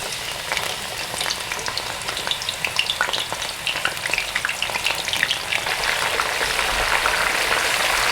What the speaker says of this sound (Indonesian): Jadi saya goreng dulu ini bawang putihnya ya